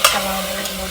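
Goat meat and spice paste stirred in a hot frying pan, a brief close scrape followed by a steady low sizzle.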